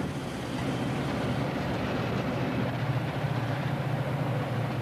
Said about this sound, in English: The Salad Bowl Express rolls through the heartland of the industrial Middle West.